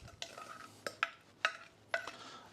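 Blackberries and sugar tipped into a butter-greased cast iron pan for a cobbler: several distinct soft thuds and scrapes of fruit and spoon against the pan, spaced out and fairly quiet, with no talking.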